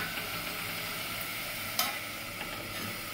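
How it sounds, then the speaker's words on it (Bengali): Eggplant and mixed vegetables for a poppy-seed dish sizzle steadily in a pan with a soft, continuous frying hiss, broken by a few faint scrapes and clicks as they are stirred. "বেগুনটাও নাড়াচাড়া করে নিয়েছি, একটু ভাজা ভাজা করে নেব"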